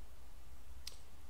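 A single sharp mouse click on an upgrade button, brief and clear against a quiet background.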